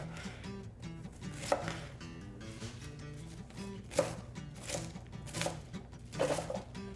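A knife slices cabbage into thin strips for a tostada garnish, a string of crisp chopping thuds spaced irregularly, several louder strikes standing out over low kitchen background with faint music-like hum.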